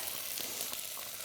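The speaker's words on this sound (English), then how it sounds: "Now when the onion and garlic starting to really cook there, I'm going to add all the other veggies." Onion and garlic sizzle faintly in a pot, a soft, steady hiss with no talking.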